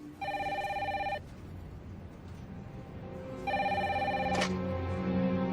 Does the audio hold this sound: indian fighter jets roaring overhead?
no